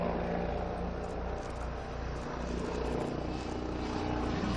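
Helicopter with Chinese-developed WZ-10 turboshaft engines passing overhead during an aerobatic display at a Tianjin helicopter expo, a steady broad engine and rotor roar that stays loud throughout with no talk.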